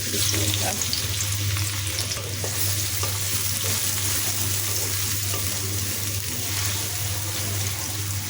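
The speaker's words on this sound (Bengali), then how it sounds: "পরিমাণ মতো তেল দিয়ে দিলাম, এখন দিয়ে দিচ্ছি পেঁয়াজ কুচি" Chopped onion sizzles steadily in hot oil in a pan, a dense, continuous frying hiss with occasional stirring scrapes, close and loud, with no talk.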